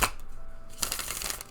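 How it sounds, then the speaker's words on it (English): A short, close burst of tarot cards being shuffled, papery flutter and riffling that softens briefly, then swells into a louder, denser run of snapping card edges. "let's do one more shuffle"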